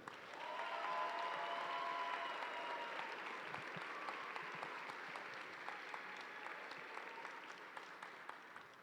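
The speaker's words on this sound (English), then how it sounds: "One last round of applause for all these amazing nominees." A sustained round of applause from a large crowd at a FIRST robotics district event, steady and fairly distant, gradually tapering off over several seconds.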